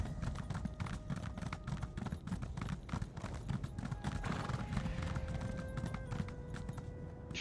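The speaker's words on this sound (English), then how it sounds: "I can use my horse here, so that's good." Horse hooves clip-clop steadily at a trot in Elder Scrolls Online, a dense, even run of hoofbeats lasting throughout with faint game tones in the background and no talk.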